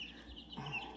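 A backyard chicken on a one-acre homestead gives a brief, soft cluck, faint and close, over quiet surroundings.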